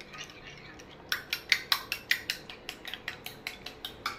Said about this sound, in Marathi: आता हांव ते बरें मिक्स करून घेता.